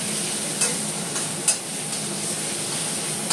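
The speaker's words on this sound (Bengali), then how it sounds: "আর মশলাটা ভালো করে কষাবো।" Spice paste and potatoes stir-fried in a pan, producing a continuous loud sizzle with a few sharp scraping strokes of a spatula at irregular moments, no voices.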